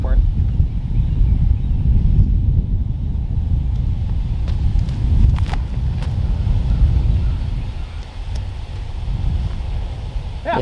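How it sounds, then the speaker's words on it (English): Steady wind on an open golf course roars low and broadband against the microphone the whole time, with gusty swells and no clear pause. "Got a left to right wind now."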